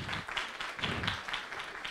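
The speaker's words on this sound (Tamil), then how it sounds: "அவர்களுக்கு ஒரு கைத்தட்டு." Audience at a Tamil music event clapping for an arriving guest, a soft steady patter of many hands heard from a distance.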